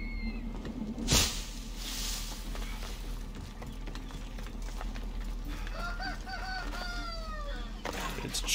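Rooster calls and clucking in the video game Assassin's Creed Odyssey, several short crowing phrases toward the end over steady ambient game noise, with a sharp hit sound early on.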